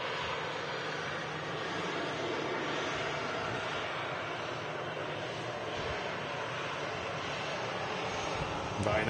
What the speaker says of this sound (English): Ryanair taxiing right past us. It's on its way to Faro.